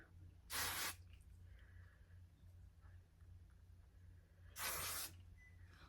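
Lightweight hairspray is sprayed in two short, separate bursts of hiss a few seconds apart, quiet and close against a low background hum in a room.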